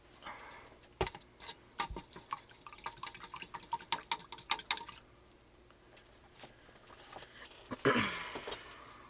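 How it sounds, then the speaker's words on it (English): A paint brush is rinsed in water, giving a quiet series of irregular drips, taps and small splashes, close by, ending in a brief swishing rinse. "Maybe I'll rinse this brush out."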